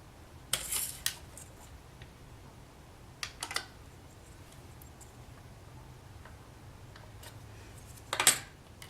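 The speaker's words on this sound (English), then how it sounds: "I need to trim away just a little bit more" Scissors trim material for a beaded necklace, giving a few quiet, isolated snips and clicks spread over several seconds, with a slightly louder cluster near the end against a faint background hush.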